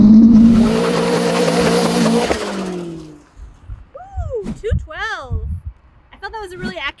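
A car held at 3,000 RPM on its launch-control rev limiter drones loud and steady for about three seconds, then drops away and is followed by a person talking.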